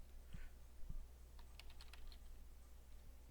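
Keys are typed on a computer keyboard in a quick burst of clicks, faint and close, against a steady low background hum with no talking.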